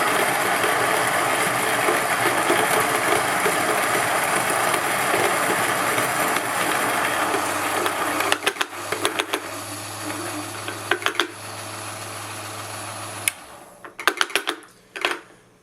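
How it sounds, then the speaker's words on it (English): Niche Zero coffee grinder milling beans, a loud continuous whirring grind for about eight seconds that then breaks into intermittent knocks and short bursts before trailing off. "I don't know if you guys can hear me over the sound of the beans grinding"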